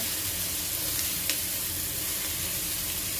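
Food sizzles steadily in a frying pan while beef-ball pasta sauce with black pepper is stirred, a dense, even crackle throughout with one brief sharp scrape midway and no voices.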